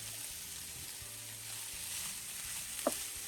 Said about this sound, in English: should we put our diced bacon in there